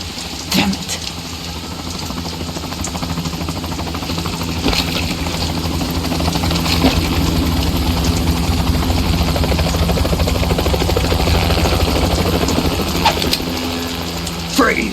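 A helicopter in the video game Metal Gear Solid 2, on a ship at sea, whirs steadily with a continuous rotor drone for the whole stretch, loud and close, with faint game sounds layered in.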